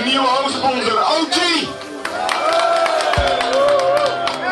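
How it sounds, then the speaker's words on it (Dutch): Football crowd at an FC Groningen match cheering and applauding a new main sponsor, OG Clean Fuels, a dense, loud wash of clapping and whoops with voices mixed throughout. "mag ik een heel hartelijk applaus voor onze nieuwe hoofdsponsor, OG!"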